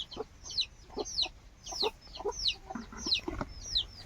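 Free-range country hens cluck in short, evenly spaced bursts on a farm, close and clear over a quiet background.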